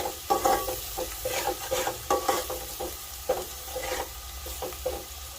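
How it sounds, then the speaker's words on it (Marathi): Crushed garlic sautés in hot oil for a Maharashtrian stingray fish curry, a close, continuous sizzle broken by repeated scraping stirs of a spoon in the pan, with no voices. "आता लगेचच आपण त्याच्यामध्ये ठेचलेलं लसूण आहे ते टाकून घेऊया। आणि तेलावरती छान प्रकारे परतून घेणार आहोत।"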